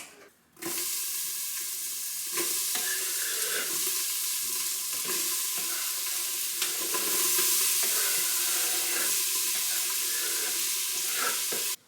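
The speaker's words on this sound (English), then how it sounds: "So I'll saute these ingredients, add half the beef, and then we're doing potatoes and some mixed vegetables." Ground beef and vegetables for soup saute in a pan with a steady, close sizzle, punctuated by intermittent scraping stirs throughout.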